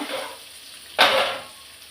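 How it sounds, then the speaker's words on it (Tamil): Turmeric powder fried in hot oil in a pan gives a soft sizzle that suddenly flares into a louder hiss and then settles back down. "மஞ்சள் தூள் நல்லா வதக்கிக்கிறேன்"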